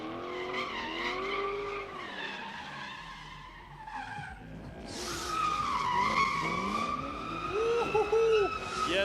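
A Nissan 350Z drifting at a drift pit, tires squealing in long, wavering, loud screeches over the engine's roar, shifting in pitch as the car slides, continuous and without talk.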